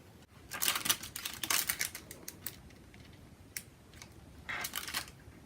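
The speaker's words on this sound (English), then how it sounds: "I'm just use the scissors to pry them up and pop them down." Quick clusters of small snipping and clicking sounds, close up, in irregular bursts with short pauses between them.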